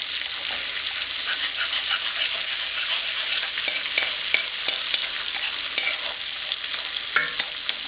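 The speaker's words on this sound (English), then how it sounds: "Give that a good stir around, and then 1 cut up anchovy fillets. Give that a stir around." Anchovy fillets and garlic sizzle steadily in a frying pan for spaghetti, with close scraping stirs and soft crackles throughout and no talking.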